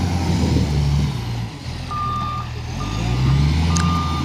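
A loaded truck rumbles along with a low engine drone while a reversing alarm beeps in short repeated tones at the vehicle, close and fairly loud.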